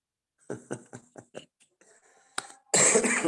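A close run of several short coughs in quick succession, followed by a harsher, louder burst of coughing at the end.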